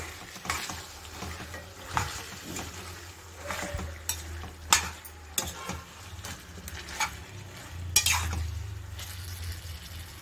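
Chicken gravy ingredients are mixed in a pan with quiet, intermittent scraping and tapping strokes over a soft background sizzle.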